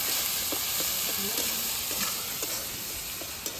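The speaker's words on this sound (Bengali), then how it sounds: "মশলাটা কিন্তু আমার বেশ ভালোভাবে ভাজা হয়ে গেছে" Spice paste fries in a pan with a constant, close hiss of sizzling oil, punctuated by soft rhythmic scrapes of stirring throughout.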